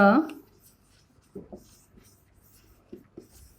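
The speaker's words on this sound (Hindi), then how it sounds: "इसके पहले मैं एक आपको फिर से क्वेश्चन लिख दूं" Brief scratchy strokes of writing on a board or paper come in a few short bursts close by, following a short opening sound, with long quiet gaps between them.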